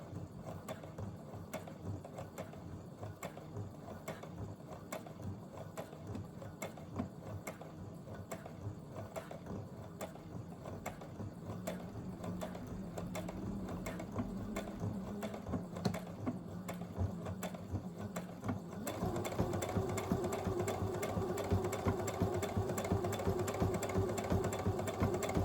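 A sewing machine stitches a buttonhole, running a steady fast mechanical chatter of straight stitching that shifts to a louder, denser zigzag rhythm near the end, close and alone without talk.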